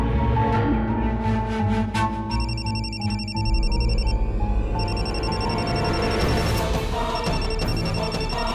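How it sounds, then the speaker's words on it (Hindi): A mobile phone rings with a repeating electronic ringtone that plays on and off over background music, fairly loud and steady throughout. "तुम्हारा फोन बज रहा है"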